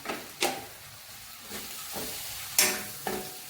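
Crushed mustard seeds go into a sizzling pan of ambazhanga pickle and are stirred, giving a steady frying hiss punctuated by sharp scraping spoon strokes about once a second.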